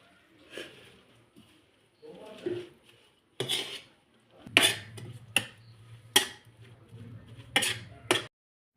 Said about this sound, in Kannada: ಮೆಂತ್ಯ ಸೊಪ್ಪು ಹಾಕಿ ಹಿಂಗೆ ಕೈ ಆಡಿಸ್ಕೊಳ್ಬೇಕು